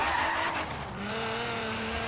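Nissan 240SX with a slammed JDM drift build in Forza Horizon 3, its engine giving a low-end rasp under throttle, loud and continuous with a rising tone and some tire squeal mixed in.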